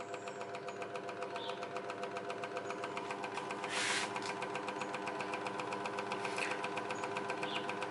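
A Pazto 16-inch scroll saw runs at its lowest speed, a steady rapid mechanical chatter like a sewing machine, close and even throughout with a couple of brief hissy bursts.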